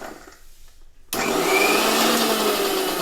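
A blender crushing Oreo biscuits with banana switches on after about a second of quiet, then runs with a loud, steady, close whir until the end.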